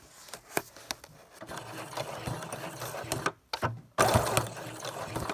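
A sewing machine stitches through the pages of a small junk journal in bursts of rapid mechanical clatter, with brief pauses between runs and a louder final burst, close up and with no talk.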